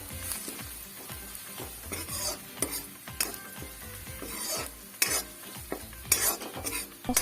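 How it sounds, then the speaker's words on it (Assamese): Onions browned in oil with turmeric and coriander powder are stirred in a pan, a quick rhythmic series of scraping strokes over a soft sizzle, close and distinct with no talking. "মছলাবোৰ ভালকৈ ভাজি লোৱাৰ পিছত"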